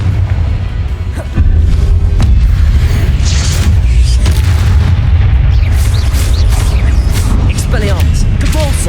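Hogwarts Legacy combat spells like Confringo, Depulso and Expelliarmus, heavy booms and bursting blasts repeating close and loud after a brief quieter start, with a voice naming spells throughout.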